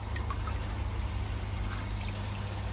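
Dirty koi filter water pours into a glass, a soft, steady trickle under low background rumble, quiet and continuous.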